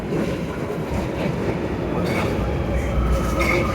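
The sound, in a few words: Barcelona metro train arriving at station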